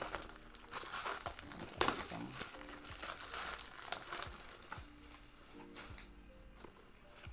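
Cardstock sheets crinkle and rustle as they are handled during an art journaling session, with sharp crackles and a louder crumple near the start, close and fairly quiet, no talking.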